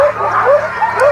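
Sled dogs on a polar trek yip and whimper excitedly in rapid, high-pitched bursts, loud and near, with a voice faintly underneath.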